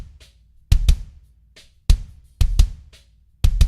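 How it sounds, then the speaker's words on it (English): Punchy kick drum layered with Legacy drum samples, sounding as a sparse pattern of deep, hard thumps with brighter snappy transients, several double hits spaced across a few seconds, dry and up front. "So all of that in combination with my kick sounds like this."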